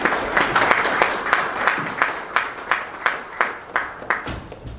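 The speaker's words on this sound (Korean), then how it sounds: "힘찬 박수로 맞아주시기 바랍니다" Rhythmic audience clapping welcoming a guest lecturer at a community forum in Atlanta, steady evenly timed claps with a soft crowd wash beneath, moderately loud and close.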